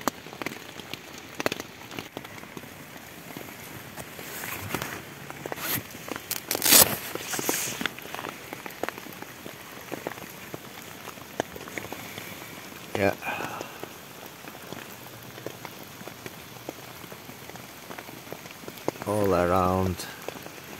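Heavy rain falls steadily outside a campsite in the woods, a dense hiss with scattered louder drops and bursts, and someone speaks briefly near the end.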